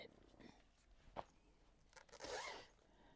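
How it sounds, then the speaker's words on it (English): A clothing zipper pulled on a quiet indoor cross-stitch setup, with a faint short tug followed by a longer, louder rasping zip near the end, close and with no talk. "Sorry, zippers."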